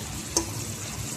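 A paste of garlic, ginger, tomato and onion fries in a pan for chicken curry, giving a soft, steady sizzle with one small click and no talking.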